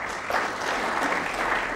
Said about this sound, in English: The applause from the crowd.